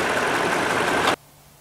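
A 2008 Toyota Tundra's 5.7 liter V8 runs with a loud, steady broadband roar that cuts off abruptly after about a second, leaving near silence.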